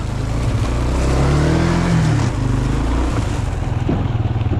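A Kawasaki Bayou 250 ATV's engine drones loudly and steadily during a wheelie, its pitch rising and falling slightly as the throttle is worked, heard close and continuous.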